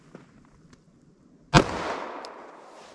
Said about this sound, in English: Let's see what we get here with our 45 ACP.